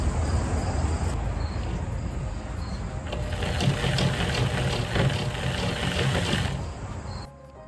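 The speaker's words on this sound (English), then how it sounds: "this is my first time like ever in my life using a jigsaw, so I had to make like a little test cut" A jigsaw makes a short test cut, giving a steady buzzing, rattling drone up close that shifts slightly in tone midway and then drops away near the end.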